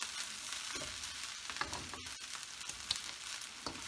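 Fried rice sizzling in a hot pan, a constant soft hiss with occasional crackles and stirring scrapes, quiet and close with no talk.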